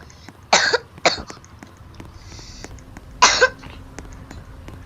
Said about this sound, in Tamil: இருமல் வருங்க